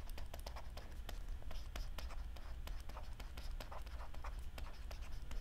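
Hand writing an equation, heard as a steady run of quick, close scratching strokes against a soft background hum.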